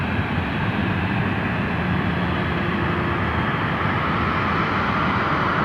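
An airliner taking off at Sydney Airport gives a loud, steady, broad engine roar that holds evenly throughout, with no talking.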